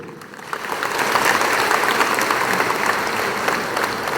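Crowd applause during a community speech, a dense steady wash of many hands clapping that rises quickly and holds at a fairly loud level without a break.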